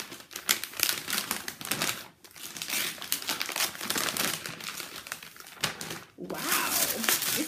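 Gift wrapping on a coffee table book, wrapped very securely, is torn and crumpled open in repeated loud rustling, crinkling bursts with brief pauses, close and continuous.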